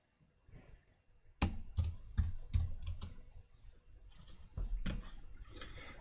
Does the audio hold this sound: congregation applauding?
no